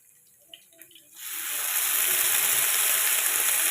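Amaranth greens hit hot oil seasoned with chili and salt, bursting into a loud, steady sizzle after a few faint clicks and taps, the frying hiss filling the pan and holding strong.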